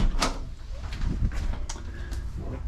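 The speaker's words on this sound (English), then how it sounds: "So you have another sliding door." A sliding door inside a 2023 Forest River Wildwood travel trailer RV rolls along its track with a few soft thuds and scrapes, close up in a quiet interior.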